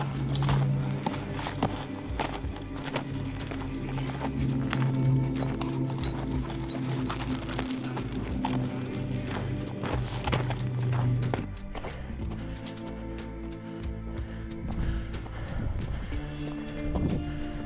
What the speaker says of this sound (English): Bunch of horses over there.